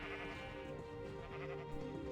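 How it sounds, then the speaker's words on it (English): Sheep bleating in the Minecraft game world, a steady layered drone of wavering bleats under a soft musical backdrop, continuous and fairly quiet throughout. "right now we're just happily herding some sheep"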